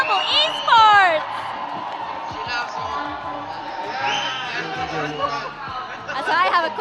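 A crowd at a live esports event cheers for a team, with loud whoops and chatter swelling and fading, while voices talk over the din.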